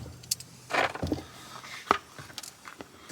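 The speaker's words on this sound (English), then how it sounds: "I'm just going to take a little X-Acto knife and cut this rubber" A small X-Acto knife slices through a rubber piece while a ZF5 short-throw shifter tower is being fitted, giving a few close, brief scraping and cutting bursts with light clicks between them.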